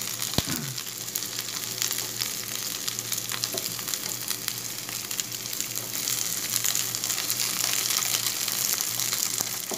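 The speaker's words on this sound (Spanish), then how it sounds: "Estamos sofriendo acá, nos vamos a sofreír." Chopped vegetables and chile sauté in oil in a frying pan with a steady, bright sizzle, close and continuous, the hiss swelling slightly toward the end.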